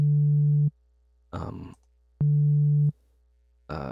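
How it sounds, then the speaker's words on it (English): A test tone runs through the Overdrive effect in Ableton Live 10, heard as two sustained steady tones, each about 0.7 seconds long, alternating with short gritty distorted bursts. "that's the effect that it has on the signal when you have the overdrive"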